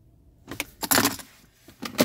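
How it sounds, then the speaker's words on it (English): A 2018 Honda CR-V EX key fob with remote start jangles on its ring, giving several close, bright metallic rattles in short bursts. "Here's the keys with the remote start right here."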